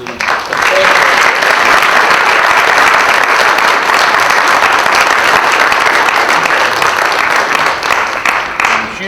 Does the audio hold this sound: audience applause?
yes